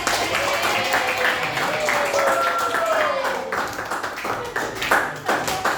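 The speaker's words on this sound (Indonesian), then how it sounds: "Tepuk tangan teman-teman" Classmates clap their hands together in a classroom, producing a dense, fairly loud patter of claps while voices carry on faintly underneath.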